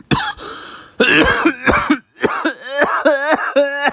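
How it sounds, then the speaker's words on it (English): A person coughs repeatedly in harsh bursts, close to the microphone, with a brief pause midway before a final run of hoarse, rasping coughs. "I was real life coughing."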